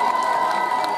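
Crowd at an 88th birthday village celebration in Sviatopetrivske cheering and clapping, a dense, steady roar of voices and applause filling the whole second without a break.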